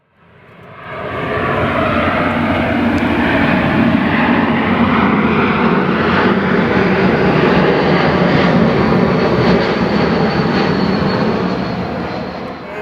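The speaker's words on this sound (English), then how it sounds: "As you can hear, there's a flight coming through." A jet airliner roars overhead on a flightpath above a garden, swelling in from quiet to a loud, sustained rushing rumble that fills the air for several seconds.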